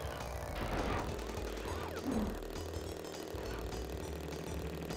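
Motorcycle engine from Crash Bandicoot 3: Warped, a steady mid-pitched drone with a rough low rumble running through the whole stretch, with other game noises layered on top.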